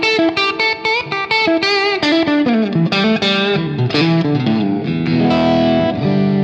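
A Stratocaster electric guitar on its middle pickup plays a loud, distorted riff of quick picked notes and chords that ends in a sustained ringing chord, with no voices.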